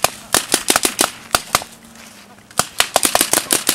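Rapid bursts of staged gunfire from an amateur Vietnam War film crack out in irregular volleys, loud and close, with a short lull midway before the shots resume in quick succession.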